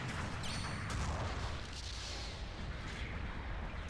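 A grenade launcher round explodes with a booming crash in Gundam Battle Operation 2, a heavy low rumble that trails off, preceded by a brief metallic ring.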